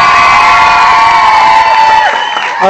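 A crowd of children cheers, whoops and shouts loudly and continuously for the performers of a summer-camp comedy skit of the fairy tale The Turnip, with the shouts easing slightly near the end.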